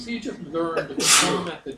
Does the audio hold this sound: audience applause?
no